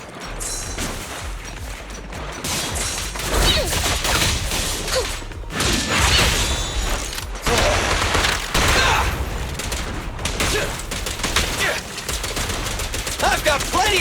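Bursts of gunfire during combat in Zenless Zone Zero, loud close volleys of rapid shots in repeated clusters mixed with impact clatter and effects.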